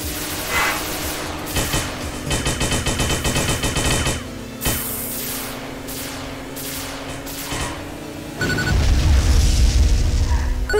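Cannon fire in the RollCats video game bursts out in rapid repeated volleys, loud and sharp, with clusters of shots followed by heavier booming impacts near the end.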